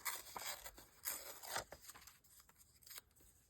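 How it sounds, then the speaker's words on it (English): Paper being torn by hand for a junk journal, a few quiet close ripping bursts followed by faint rustling, no talk. "I'll go ahead and rip this"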